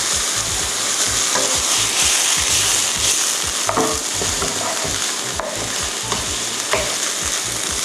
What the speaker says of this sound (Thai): ผัดให้ตัวเส้นเริ่มซึมตัวน้ำซอสลงไปก่อนนะคะ